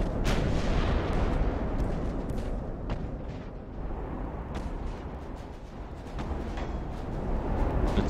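Warship guns in the Ultimate Admiral: Dreadnoughts naval game fire continuously, with dense rumbling booms and repeated sharp blasts layered over a heavy, sustained low roar of battle.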